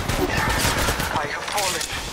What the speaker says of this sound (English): Real shots fired at me.